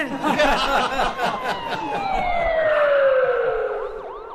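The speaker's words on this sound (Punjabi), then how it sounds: "ਮੇਰੇ ਘਰ ਵੱਲੋਂ ਇਹ ਐਂਬੂਲੈਂਸ" An ambulance siren in a radio play wails loudly, its pitch sliding downward as it passes, with a busy jumble of background sound early on.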